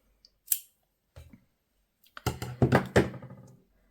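Scissors snip off the knotted edges of ribbon or twine on a paper clip craft, a few close, short cuts and clicks, with a small snip early, then a cluster of several sharper cuts in quick succession.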